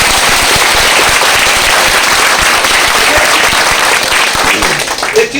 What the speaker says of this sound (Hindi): एक बार हाथ उठा के उनके लिए जबरदस्त ताली बजा दो।